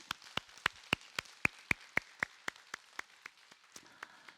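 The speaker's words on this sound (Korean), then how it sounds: "하나님께 감사의 박수를 한번 올려드리면 좋겠습니다" A few sharp, evenly spaced claps ring out during a Sunday church service, about sixteen in a steady rhythm, fading slightly toward the end with no voices.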